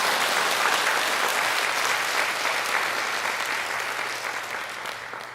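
A church congregation gives steady, dense applause to welcome a visiting pastor at an evening revival gathering in Jeju, the clapping filling the room evenly and easing slightly toward the end.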